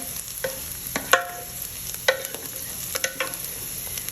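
Onions and peppers fry in a pan with a soft continuous sizzle, punctuated by several sharp clicks and scrapes of a utensil stirring them, close up and without speech.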